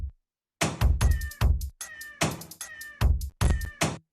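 Drum kit built from pitched and chopped cat voice samples: punchy meow-based hits fire in a tight rhythmic pattern, loud and dry, with short sharp bursts and brief gaps between them.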